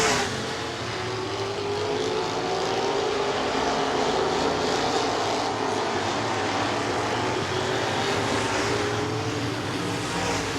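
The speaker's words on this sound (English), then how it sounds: "Without the aid of a caution, going to be very difficult for Erik Schaeffer to gain half a straightaway in 7 laps." Superior Auto modified race cars roar around Angola Motorsport Speedway during a championship-night race, a dense continuous engine drone with a rising whine from a passing car, heard from a distance with no voices.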